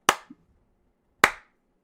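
Two single, sharp hand claps spaced about a second apart, close and dry, each with a quick decay into silence.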